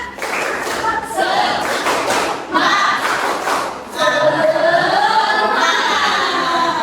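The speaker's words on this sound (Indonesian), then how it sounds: "Tepuk 1, tepuk 2, tepuk 3, tepuk semangat" Indonesian biology students in a classroom doing a rhythmic clapping cheer, loud bursts of group clapping mixed with chanting voices close by.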